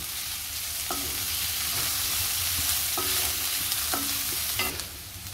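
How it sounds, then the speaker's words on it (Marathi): Ginger and garlic sauté in a pan for mushroom masala, a loud steady sizzle with a few distinct spatula scrapes and taps spaced through it. "आता आलं लसूण आपण 1 मिनिट परतलंय।"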